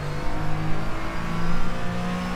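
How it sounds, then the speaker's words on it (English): An LMP3 prototype race car in the iRacing sim roars past on a high-banked oval, its engine a loud, sustained drone that swells and holds across the whole moment without any talk. "So you have an LMP3 behind us here. He's about to blow by us on the high banks."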